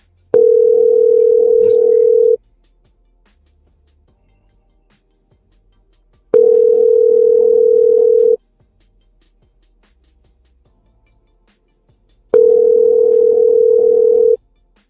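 A telephone tone sounds steadily and loudly during a phone call, in three long, identical bursts of about two seconds each, separated by roughly four seconds of silence.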